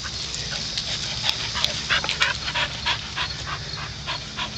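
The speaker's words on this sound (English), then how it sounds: "That's my dog. That's my dog." A dog whimpers, yips and pants in short, uneven bursts, close by, over a steady background hiss.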